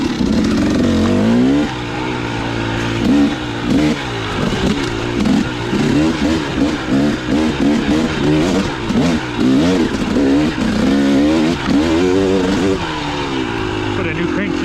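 A dirt motorbike with a new crank seal revs and bogs over chunky rocks at Lightning Raceway, its engine pitch rising and falling in uneven bursts, loud and close, with someone talking over it.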